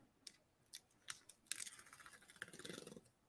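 Scissors trim paper for ocean-themed card making, a few quick isolated snips followed by a longer run of close, crisp cutting, quiet overall and without talk.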